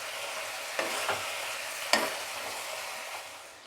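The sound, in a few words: spices being sautéed in a pan for mix veg mushroom curry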